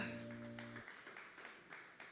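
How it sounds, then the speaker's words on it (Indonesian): Applause breaks out from the audience at a church sermon, a broad even patter of many clapping hands that swells after a brief held tone and continues steadily at moderate distance. "Kita beri tepuk tangan yang meriah"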